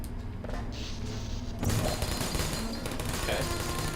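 Rapid turret gunfire from the Portal video game, a dense burst of shots that swells sharply partway through and stays loud and close over a steady game background, with some talk mixed in.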